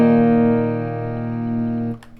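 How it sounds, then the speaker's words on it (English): Bass guitar played through a Digitech Polara reverb pedal in hall mode with medium mix and time: one sustained low note ringing steadily with a lush reverb tail, loud and alone, cut off near the end. "the first pedal I want to hit is the Digitech Polara that I mentioned in the other video"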